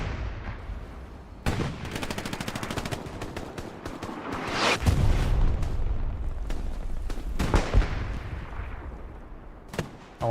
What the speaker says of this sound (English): Gets taken out by artillery.